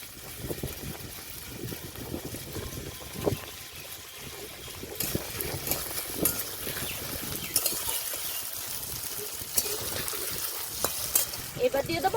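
Potato curry fries in a pan with a steady, soft sizzle, broken by stirring scrapes and clatter, at moderate volume close by.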